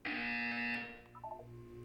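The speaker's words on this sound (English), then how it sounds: "You will hear a buzzer." A buzzer in the video game Portal 2 sounds as one loud, sustained harsh electronic tone lasting about a second, then cuts off into a brief electronic warble over low background hum.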